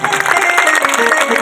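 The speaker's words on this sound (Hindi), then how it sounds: "मैया के लिए जोरदार से ताली बजाएं" An audience at a Hindu religious katha gathering claps loudly and continuously, a dense, steady wash of applause close by with no pauses.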